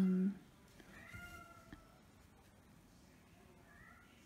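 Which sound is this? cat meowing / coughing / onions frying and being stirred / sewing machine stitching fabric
cat meowing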